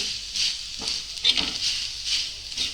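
An onion roasting in a pan for Maharashtrian kat amti, giving a soft, steady sizzle and light crackle with small bumps from handling, close and without talk.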